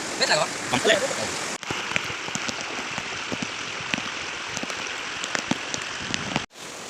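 Rain falls steadily through a forest, a broad hiss patterned with scattered drop hits. A voice talks briefly at the start, and the sound cuts off abruptly near the end.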